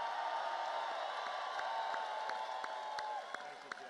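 A crowd at a political event applauds and cheers steadily, dense clapping with scattered whoops filling the space at a constant loud level before easing slightly near the end.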